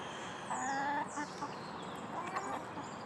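Chickens cluck and squawk close by while being fed cracked corn and other seed on a farm in the morning, several birds calling over a steady outdoor background.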